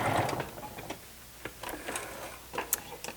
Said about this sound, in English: you're going to also just go back and forth a couple times and lock that stitch in place.